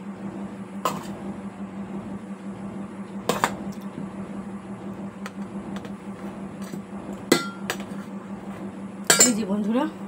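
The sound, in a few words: rice being filled into a tiffin box, dishes clinking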